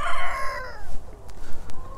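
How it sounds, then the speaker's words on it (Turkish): Chickens and a rooster at feeding time on a free-range chicken farm: a loud, close rooster crow stretches over the first second, followed by scattered clucks and a softer second crow. "Şuradan biraz yem verelim tavuklara."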